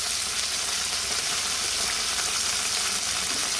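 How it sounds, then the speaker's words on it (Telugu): Green chillies frying in hot oil for dosakaya pappu, a dense, loud, continuous sizzle that holds steady without pauses or voices. "మిరపకాయలు మంచిగా ఫ్రై అవ్వాలా"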